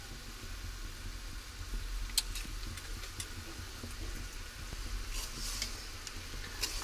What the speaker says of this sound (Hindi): तो ये देखिए मैं सूजी को भूज रही हूँ।